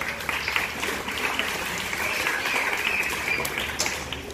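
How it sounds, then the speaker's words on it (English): A crowd at a primary school graduation claps steadily, a dense even wash of applause lasting several seconds, with some faint voices mixed in. "Yes, clap them."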